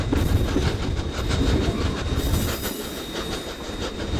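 Steam train rolling along the Virginia and Truckee Railroad with restored Pullman cars, a loud, close rumble of wheels and rail clatter with rhythmic clicking and a brief squeal, continuous throughout.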